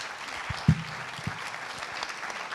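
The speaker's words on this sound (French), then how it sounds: "On peut l'applaudir." An audience at a Nîmes economic development event applauding a speaker, steady close clapping from a room of people with a few louder individual claps, no voices over it.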